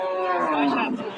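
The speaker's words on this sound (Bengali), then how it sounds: "শাহিওয়াল জাতের একটি গাভী দেখছিলাম" A Sahiwal cow gives a single drawn-out moo, fairly close and clear, lasting about a second.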